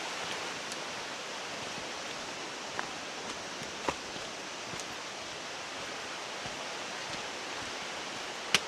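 Gragg Prong, a mountain creek, flows below a ridgeline trail as a steady, even wash of rushing water heard from a distance, with a few faint footstep ticks over it and no talk.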